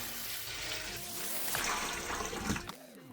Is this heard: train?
no